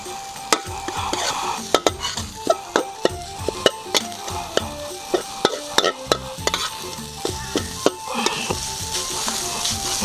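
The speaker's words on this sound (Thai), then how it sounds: "ข้าวสวยนะครับเราเตรียมไว้ครับสัดลงไปเลยฮะชั่วข้าวให้ นะครับ อ่าแล้วก็ผัดเข้าด้วยกันครับ" Rice stir-fried with chili paste (nam prik long ruea) in a pan, a spatula scraping and clanking in steady repeated strokes over a constant close sizzle for the whole stretch, with no voices.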